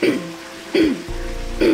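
A voice imitates throat clearing, three short raspy bursts spaced evenly apart, with a low hum running underneath.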